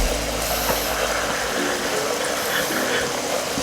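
A Sakai Pro pond pump rated at 25,000 litres per hour runs steadily on a koi pond, a constant low motor hum with faint water noise, no talk.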